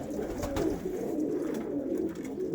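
Pigeons coo steadily in an aviary, a dense, continuous low cooing from several birds close by with no talking.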